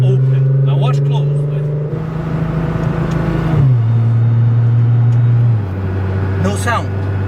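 A Nissan car fitted with an Fi Exhaust revs with steady engine drones that step up and drop in pitch, loud and close, with brief overlapping speech.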